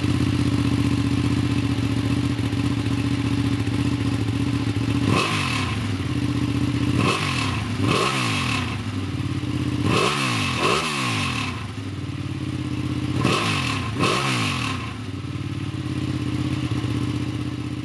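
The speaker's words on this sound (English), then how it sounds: "90-degree L-twin engine powers the 959." 2019 Ducati 959 Panigale with a 955cc 90-degree L-twin engine, ridden with a steady engine drone broken by several sharp throttle blips and gear shifts that rise and fall in pitch. The engine sounds close and loud throughout.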